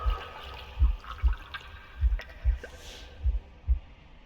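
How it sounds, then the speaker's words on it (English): Gurgling water and a deafening heartbeat in the adventure game The Last Campfire: deep, evenly spaced thumping beats pulse over a soft watery bubbling and trickle, with no one talking. "The gurgling of water, a deafening heartbeat."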